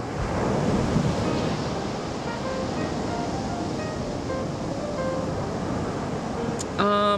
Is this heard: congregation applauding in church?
no